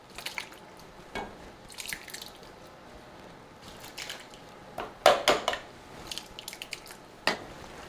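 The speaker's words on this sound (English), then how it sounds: "We're going to add Hunt's petite tomatoes, 6 cans of these in here." Six cans of Hunt's petite tomatoes poured into a large pot of pork and beef chili: soft wet plops, drips and squishy splashes in scattered bursts, close and quiet, with a couple of louder glugs midway.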